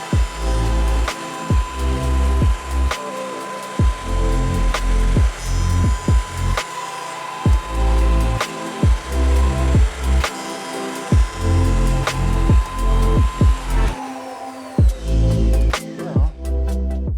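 A RIKON 6-inch benchtop jointer runs with a loud steady whine while its cutterhead planes wood in repeated passes, giving a rhythmic pattern of rough cutting bursts broken by short gaps, heard close up with no talk.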